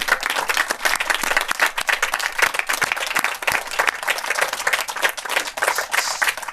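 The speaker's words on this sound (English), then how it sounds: "I think you should give her a round of applause" An audience at a film Q&A claps in sustained applause, dense and steady for several seconds, with a few sharp individual claps standing out.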